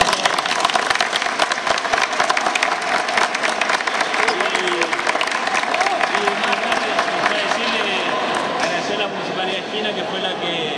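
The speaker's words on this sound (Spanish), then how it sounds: "Así que un fuerte aplauso para todos." Sustained applause from a crowd for players at a youth futsal tournament final, dense clapping continuing steadily for about ten seconds with faint cheering mixed in.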